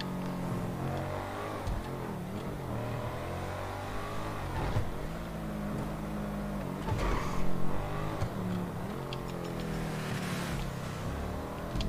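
The V12 engine of a Schafter car in GTA 5 drones steadily, its revs rising and falling and swelling briefly near the middle, loud and continuous with no one speaking.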